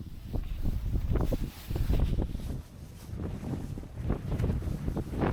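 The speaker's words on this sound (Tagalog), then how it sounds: "Lakas ng hangin ano?" Strong wind buffeting the microphone at Hitachi Naka beach in Japan, a continuous loud rumbling roar with gusty surges and rustling through the whole stretch.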